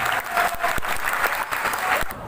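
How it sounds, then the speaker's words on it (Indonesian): Sustained clapping from a school crowd at a student council candidate debate, dense and even throughout, with scattered louder claps standing out near the end. "Beri tepuk tangan."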